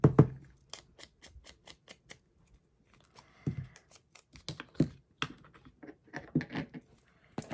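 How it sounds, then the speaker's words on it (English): Thin music paper being torn by hand for a junk journal craft, heard as a series of short, crisp ripping snaps and rustles at close range, quiet and without talk. "I think I'm going to just tear a piece of this little music paper"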